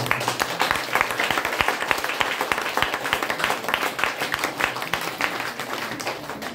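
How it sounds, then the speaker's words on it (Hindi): An audience at a motivational talk claps vigorously and steadily, the sharp individual claps dense and close, with no talk over them. "तालियां जोरदार हो जाए, आपके तारीफ के लिए जोरदार हो जाइए"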